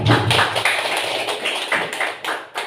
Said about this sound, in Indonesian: Aplaus untuk Bu Winda.